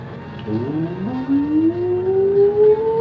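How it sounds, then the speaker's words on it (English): A police or ambulance-style siren rises in a steady upward wail, moderately loud and continuous, with a faint background hum and no talking. "It's like a police siren or an ambulance."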